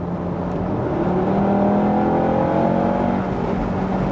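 A 2017 Audi TT RS 400 hp five-cylinder revs up under acceleration in 6th gear with its exhaust valve open, its deep, rising exhaust drone close and loud, pitch climbing steadily.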